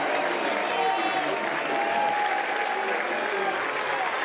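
College baseball crowd in a stadium during a North Carolina versus Oklahoma game, steady sustained applause and cheering with a commentator talking over it.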